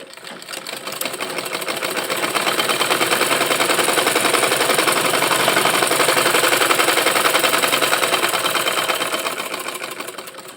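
A sewing machine runs steadily, stitching fabric for a skirt, with a fast continuous mechanical whir that builds in over the first second and stays loud and close for about ten seconds, no talking.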